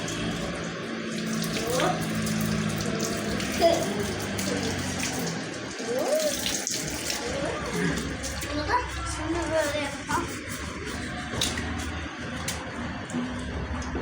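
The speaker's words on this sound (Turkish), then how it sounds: "Şimdi su dök birazcık da tamam" Water runs and splashes steadily while a motorbike is being washed outdoors, a continuous faucet-like stream with sloshing, under frequent talk and laughter from several people.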